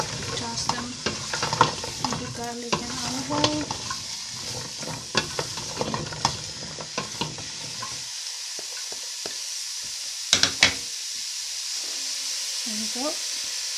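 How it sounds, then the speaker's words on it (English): Chopped zucchini and carrots hit frying garlic and olive oil in a pot, bringing a busy sizzle with repeated stirring scrapes and clatter that thins to a softer hiss and occasional knocks. "Go ahead and toss them into garlic and olive oil."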